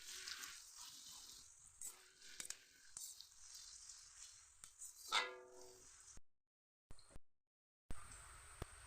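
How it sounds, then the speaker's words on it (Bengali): Onions frying in a pan give a steady, soft sizzle that rises and falls with some stirring noises, and the sound drops out briefly near the end. "পেঁয়াজগুলো ভেজে নেব।"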